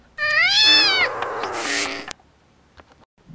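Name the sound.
cat meowing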